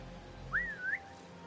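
A single short two-note whistle from a character in Assassin's Creed Mirage luring enemies, clear and fairly quiet over low background hum.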